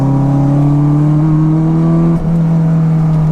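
A 380 bhp supercharged Honda S2000 engine pulls hard under acceleration, a steady loud droning note with a rising tone and a brief dip near the end, with no voices.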